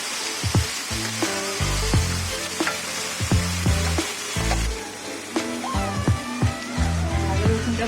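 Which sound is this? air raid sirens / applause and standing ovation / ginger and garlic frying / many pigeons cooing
ginger and garlic frying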